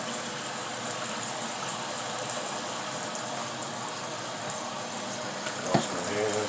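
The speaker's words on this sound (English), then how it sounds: "Let me clean out my sink." Tap water runs steadily into a kitchen sink being cleaned out, a soft, continuous rushing hiss with one brief clunk near the end.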